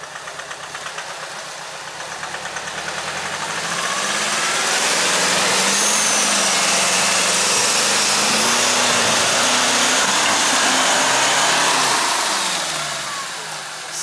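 An off-road Land Rover Defender with a side-exit exhaust, its engine revving hard and building to a loud, sustained roar on a tough trail, then easing off near the end, with no voices.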